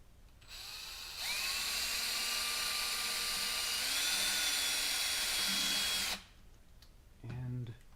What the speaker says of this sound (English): we're just going to drill the final 4 vent holes here, roughly equally spaced